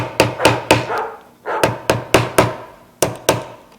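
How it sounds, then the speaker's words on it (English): Sharp metal hammer strikes on a wire spiral ring fitted over a ring mandrel pressed onto a table, about eleven loud ringing blows in uneven pairs and runs, each decaying briefly, with no talking. "So I'm going to push the ring mandrel really hard on the table. It's not going to hurt the table. And I'm going to hammer like this."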